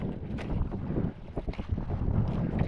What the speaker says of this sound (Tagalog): Lakas ng hangin, galawan na yung mga puno guys.